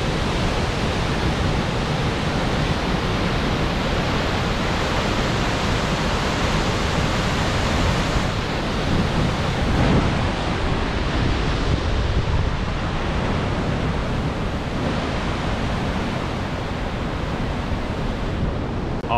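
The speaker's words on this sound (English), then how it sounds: "check out this waterfall." Steady, loud broadband roar of an Icelandic waterfall, continuous and unbroken throughout, with wind buffeting the microphone.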